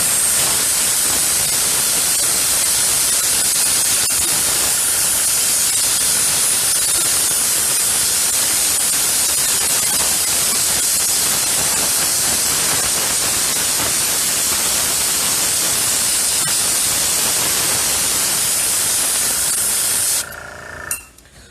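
An airbrush spraying Testors acrylic paint thinned with paint thinner and alcohol ink gives a loud, steady, unbroken hiss that runs for about twenty seconds before cutting off abruptly.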